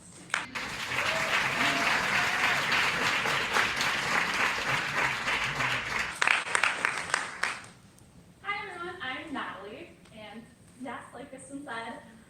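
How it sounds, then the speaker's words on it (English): A conference audience at a cultured-meat event gives a speaker a round of applause, loud sustained clapping for about seven seconds that fades out, followed by a single person beginning to talk. "So please give Natalie a round of applause."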